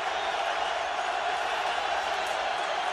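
Football stadium crowd at an NFL game between the Dallas Cowboys and Philadelphia Eagles roaring in a steady, even wash of noise, heard from a distance with no distinct claps or voices.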